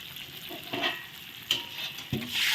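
Ground coriander, cumin and chili spices sizzle and fry in hot oil in a pan for a rohu fish roe curry, a steady close sizzle with a few stirring scrapes and no talk.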